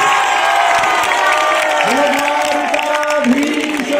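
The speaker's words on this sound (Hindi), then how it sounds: "जोरदार ताली बजाओ" An audience at a Shrimad Bhagwat Katha in Haldwani claps loudly and steadily, with scattered cheers, while an amplified voice carries on over the sustained applause.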